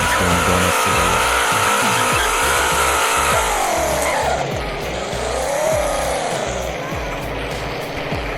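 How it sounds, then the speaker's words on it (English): In the Roblox game Greenville, a car spins donuts to the left, its engine droning loudly while the tires squeal and skid; the pitch rises and falls as it circles, and the noise eases slightly toward the end. "It's going donuts to the left."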